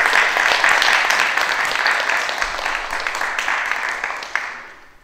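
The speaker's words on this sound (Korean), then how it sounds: "큰 박수 부탁드립니다" Audience applause at an autumn Korean art-song concert, a steady dense wash of clapping that carries on throughout and fades toward the end.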